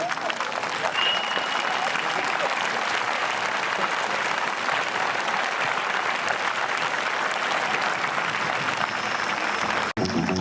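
A political rally crowd applauds President Aimé Henri Konan Bédié, a loud, sustained wall of clapping and cheering that runs unbroken, close and dense, with a brief cut near the end.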